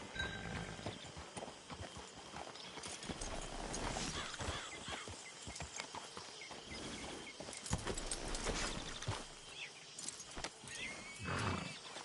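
A horse in Red Dead Redemption 2 Online, heard as steady clip-clop hoofbeats with occasional snorts and a whinny, fairly quiet and close, with no talk over it.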